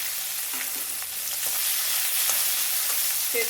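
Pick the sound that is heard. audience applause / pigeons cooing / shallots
shallots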